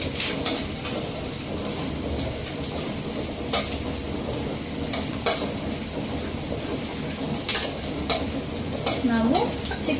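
Finely chopped garlic sizzles steadily in a pan as it fries for white sauce pasta, a continuous crackle broken by sharp stirring scrapes and clicks, fairly close and with no talking.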